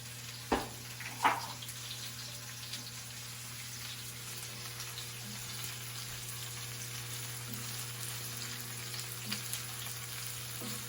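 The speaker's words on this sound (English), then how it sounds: "I'm going to add the peppers that have been, these are sweet peppers" Sweet peppers sizzle steadily in a pot of chicken and rice, a continuous soft frying hiss running throughout with a couple of sharp clatters near the start and faint utensil knocks later.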